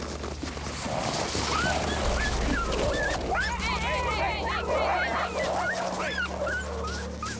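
Sled dogs of a dog team at the Nunavut Quest race whimper, whine and yip in a dense, continuous chorus, with occasional barks rising over a steady low hum throughout.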